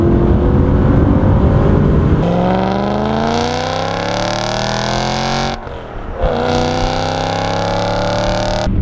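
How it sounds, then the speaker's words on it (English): A decatted BMW M3 engine revs hard through a third-gear pull, its loud, raspy note climbing steadily, dipping briefly at a shift or lift, then rising again close up. "Third gear pull."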